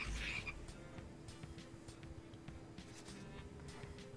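Frogs croak in the video game Neo: The World Ends With You, a steady low croaking texture with game ambience running under it throughout.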